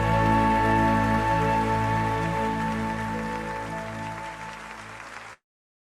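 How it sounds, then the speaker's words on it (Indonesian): Loud, steady applause from a church congregation at a Sunday service, a dense wash of clapping that carries on for about five seconds before stopping abruptly. "Mari bersama-sama kita berikan tepuk tangan yang terbaik hanya buat Allah."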